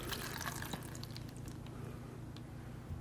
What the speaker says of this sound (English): we'll just pour some water over it there